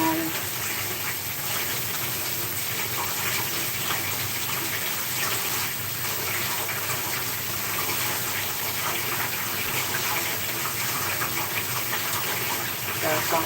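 Tap water gushing steadily into a sink while tilapia is washed before frying, a continuous close rushing flow with a faint voice now and then.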